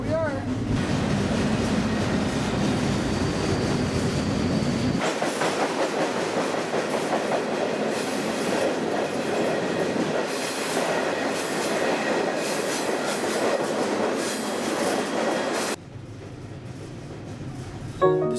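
A cargo freight train rolls across Canada with steady, loud clickety-clack from the railroad cars and a grinding rumble. The noise shifts in tone partway through, then drops off abruptly near the end.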